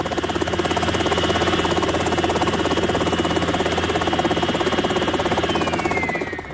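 A state-of-the-art cartoon helicopter engine in a children's adventure animation, with loud rapid rotor chopping over a whining motor, steady throughout, then a falling whine as it winds down near the end.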